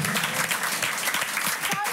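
Studio audience applause on a German late-night talk show, dense continuous clapping at close range throughout, with a voice faintly mixed in.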